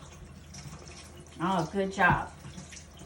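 A bathroom faucet running while hands are rinsed during hand washing, a soft steady trickle of water underneath a short spoken phrase of praise.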